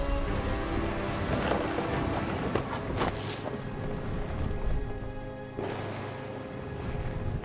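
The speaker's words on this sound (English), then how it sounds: "The thunder sounded much too close and full of angry power." Thunder in the video game What Remains of Edith Finch rumbles deep and continuous under steady rain, with sharp cracking bursts near three and six seconds.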